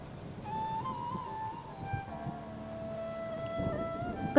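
Steady, soft cold-season rainfall patters throughout, with a faint tonal hum running beneath it; no one speaks.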